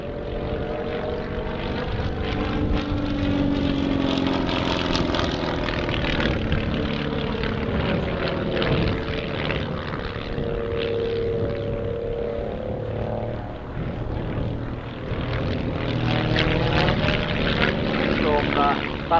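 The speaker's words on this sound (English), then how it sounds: "They're Lycoming flat fours in these aircraft." Slingsby Firefly light aerobatic trainers with 160 hp Lycoming horizontally opposed four-cylinder engines fly past at an airshow, a steady propeller drone rising and fading across the whole stretch while a voice talks over it.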